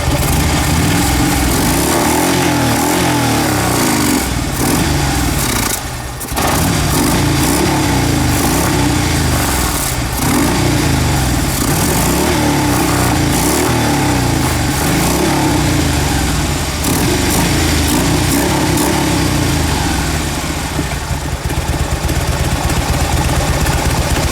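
A Harley Davidson motorcycle engine runs loud and close under throttle during an intake cleaning, a steady rough roar with one brief dip before it picks back up and holds.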